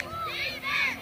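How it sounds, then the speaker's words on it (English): Crowd at a 10-and-under youth American football game shouting together for a defensive stand, a sustained loud roar of many voices including children, heard briefly from within the stands. "And the crowd is calling for a defensive stand right here."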